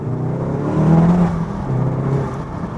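A manual Stage 2 MK7.5 Volkswagen Golf R with an upgraded exhaust revs with a deep, throaty note, rising twice then easing off, close by and fairly loud.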